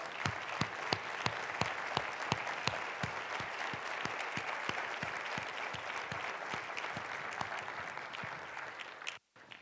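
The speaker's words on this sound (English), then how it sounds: "And I just ask you to join me in a round of applause for Candace Leitner." A large audience at a Florida distracted driving summit claps steadily in a dense, sustained round of applause lasting about nine seconds, then it cuts off abruptly.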